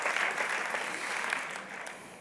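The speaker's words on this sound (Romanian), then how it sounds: "Hai să-l aplaudăm pe, nu știu cine a fost, Vlad, prietenul meu Vlad." An audience at a live Romanian comedy show applauds: a dense burst of clapping that slowly fades over about two seconds.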